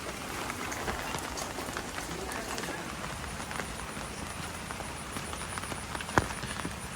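Outdoor rain falls steadily, a dense, even patter close by with scattered drips and no clear voices.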